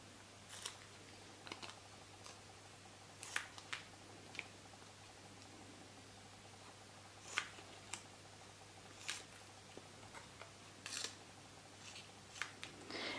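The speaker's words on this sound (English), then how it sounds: "So you're going to cut your packets into strips. And cut little squares." Scissors snip crisp and chocolate wrappers into strips and small squares, giving faint, sparse crisp cuts and plastic crinkles against a quiet room with a low hum.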